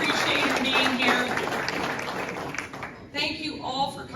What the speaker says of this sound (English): Let's give Scott a round of applause here.